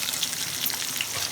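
Onions drop into hot oil for tomato rice, giving a dense, close, hissing sizzle with fine crackles, brief and steady, with no voices.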